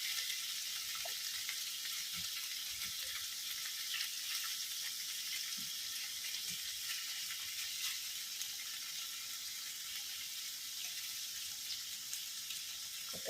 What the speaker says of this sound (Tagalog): Prito natin ng bahagya at isasahog natin doon sa garlic sprout